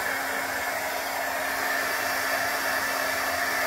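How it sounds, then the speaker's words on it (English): A heat tool blows steadily while drying a handmade Christmas card, giving a loud, continuous whooshing roar with no break and no talking. "I have a Tim Holtz heat tool that's not making so much noise, but this is heating better."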